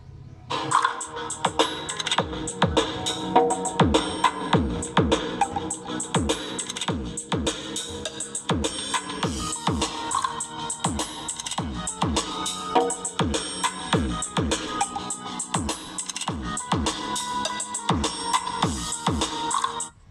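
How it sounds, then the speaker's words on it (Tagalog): Loud music plays through a tweeter and woofer driven by a restored Union AV-304 integrated karaoke amplifier, with a punchy repeating bass beat and bright highs over a dense, steady mix, no talking. "So yun yung tunog ng nabuo nating amplifier."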